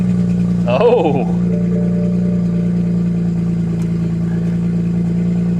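A Mazda RX8 Shinka rotary engine cranks and catches near the start, then settles into a steady, slightly raspy idle that continues throughout, with a brief exclamation from a person early on.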